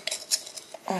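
A teaspoon clinks several times against a bowl while sugar is added to grated horseradish, with short bright metallic taps close by, then a fuller scraping clatter near the end.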